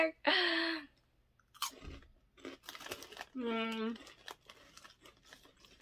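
Crisp crunching bites and chewing come in short bursts close to the mic, with a person talking in between.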